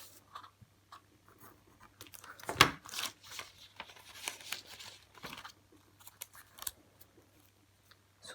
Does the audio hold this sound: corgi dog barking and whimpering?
no